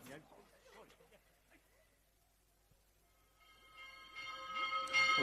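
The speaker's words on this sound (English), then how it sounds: "will someone have that bell silenced?" A bell rings faintly at first, then grows louder toward the end with bright sustained tones, in a radio comedy play scene where people talk over it in a kitchen.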